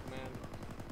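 Rapid bursts of automatic gunfire crackle in a military video game as shots are fired through a cluster of trees, dense, loud and continuous for a brief moment.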